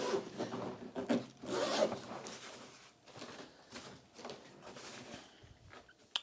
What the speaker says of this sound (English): Okay, okay, we got lots of zippers.